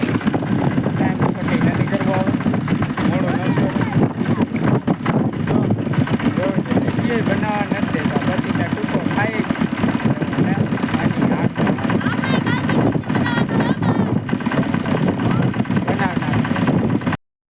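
A tractor engine runs steadily and loudly the whole time, a constant rumbling drone with voices talking over it.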